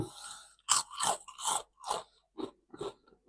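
Someone chewing crunchy mixed-flavour Thai rice crackers up close, with a series of loud, sharp crunching bites separated by short pauses and softer chewing near the end, with no talking.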